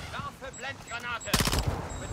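Gunfire from a shooter video game, a dense burst of rapid shots starting partway through and continuing to the end, loud and close, after a stretch of someone talking.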